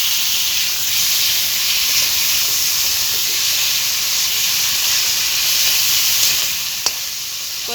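Koi fish hitting hot oil spiced with turmeric and green chilli sizzles in a steady, continuous hiss that fills the clip, with a brief clink near the end and no voices.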